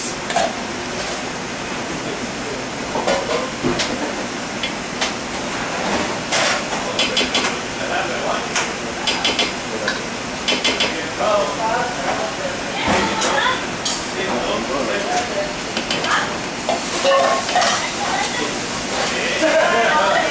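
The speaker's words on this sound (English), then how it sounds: "we're going to mix it until everything is thoroughly incorporated" A mixer churns a batch with brown sugar, honey and salt just added, a loud, continuous rushing whir with irregular knocks and clatters throughout, up close.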